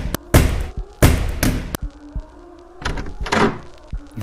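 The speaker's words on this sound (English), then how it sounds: "The door opened with the rumble, but there was nobody behind." A door opens with a rumble in an animated horror story, heard as several heavy thumps and thuds with scraping in between, loud and close, no voices.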